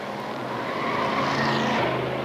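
Indy cars racing at the 1989 Molson Indy street circuit along the Lakeshore roar past in a loud, close pack, their engine whine sweeping steadily with one car's pitch dropping near the end.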